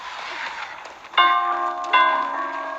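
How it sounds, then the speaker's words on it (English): The Wraith's bell in the Dead by Daylight video game rings twice, each a clear, sustained metallic chime struck about a second apart, ringing on over a dull ambient game background. "Once again, tapping the bell, waiting for a juke."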